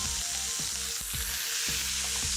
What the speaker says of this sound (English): So, just one end, turn it back down, and sear the other end in.